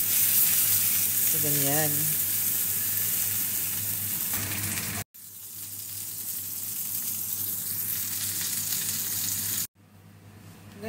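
Salmon fillet sizzles loudly as it pan-fries, a continuous hissing crackle cut by two brief silences, with a short spoken aside early on.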